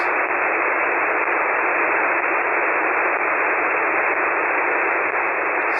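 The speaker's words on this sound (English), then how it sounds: "it sounds like it's some type of beacon" Steady band-limited radio hiss on the 30-meter amateur band, from a beacon data signal with a dense, buzzing data-like texture, continuous and loud throughout with no voices.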